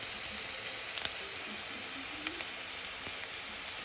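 Spices fry in hot oil in a pan with a faint, continuous sizzle and crackle and a few soft ticks, with no talking.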